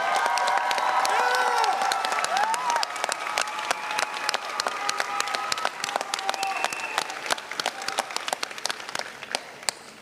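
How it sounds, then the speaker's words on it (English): A commencement ceremony audience at the UCLA International Institute applauds the graduates' guests: sustained, dense clapping with some cheering and shouts that continues throughout, gradually thinning toward the end. "please acknowledge your guests here tonight with a big round of applause in appreciation"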